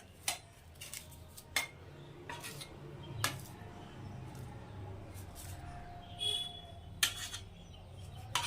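A metal lid set back onto a pot of singi fish curry with potatoes simmering on low gas, a few sharp clinks and clatters spread through a quiet kitchen, with faint birdsong in the background.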